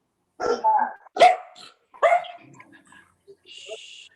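A dog barks in several sharp bursts at close range, with a whimpering, yipping quality between barks and a faint higher tone near the end.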